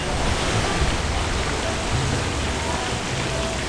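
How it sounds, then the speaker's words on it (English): Strong Florida wind roars steadily across the microphone, a loud continuous buffeting rush with no voices. "it's windy today"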